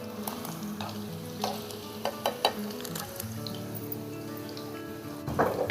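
Chicken frying crispy in oil on a small wood-fired clay stove (chul), a steady sizzle and bubbling with occasional stirring clinks and drips, close by and fairly quiet, with no talking.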